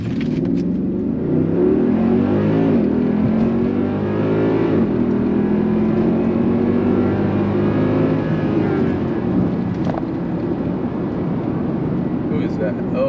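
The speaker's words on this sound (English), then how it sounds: "I'm just gonna punch it." A tuned Mercedes ML63 AMG SUV with a stage 1 tune launches hard from a standstill, its engine roaring loud and close with rising revs and gear changes throughout, a voice briefly audible over the engine.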